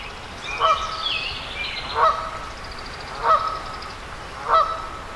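Four loud honking calls from ducks, spaced about a second apart, standing out over a quiet outdoor background beside a canal.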